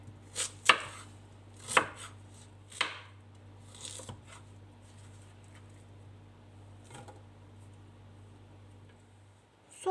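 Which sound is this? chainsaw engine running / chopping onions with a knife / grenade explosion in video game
chopping onions with a knife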